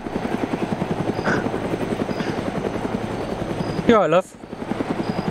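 Helicopter rotor thumping steadily throughout in the military game Arma 3, a close, constant chop with a voice speaking briefly over it and a short sharp burst near the end.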